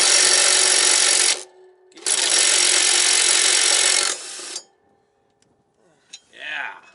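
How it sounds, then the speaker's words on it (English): Loud power tool bursts run on a lawn mower blade being sharpened, two long grinding stretches broken by a short pause, then quieter clanks and a brief voice at the end. "just hammer on it"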